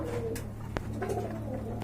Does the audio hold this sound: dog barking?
no